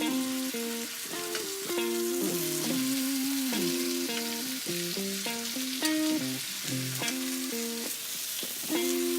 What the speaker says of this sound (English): we are going to brown each side, trying to create a layer of crust